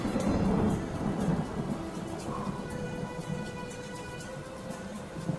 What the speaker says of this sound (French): Le tonnerre gronde en Amazonie.